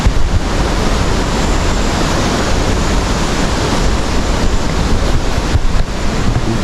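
Waterfall spray and rushing water make a loud, continuous hiss and roar with wind buffeting the microphone, close by and steady throughout, with no voices.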